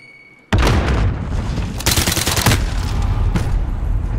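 Grenade blast and heavy gunfire in a war video game: an abrupt loud boom opens, followed by dense, sustained automatic fire with several sharper explosive bursts cutting through the continuous roar.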